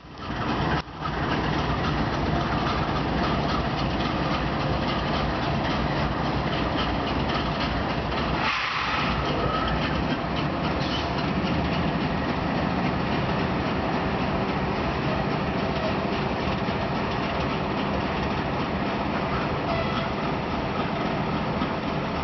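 Two Union Pacific light engine locomotives, including an ES44AC, rumble under a bridge with a steady, loud, continuous roar and a brief thump partway through, no voices heard.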